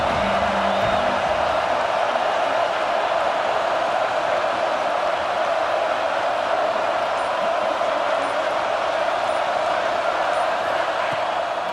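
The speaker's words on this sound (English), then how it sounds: "This crowd ready to make its presence known." Football stadium crowd at South Carolina vs Alabama cheering loudly, a thick, steady roar of many voices that holds at full volume throughout without pause.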